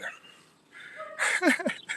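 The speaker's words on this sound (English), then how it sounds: "I wish that dog would shut up over" A dog barks several times nearby in a short burst of sharp yelps and barks, following a quieter stretch of faint background sound.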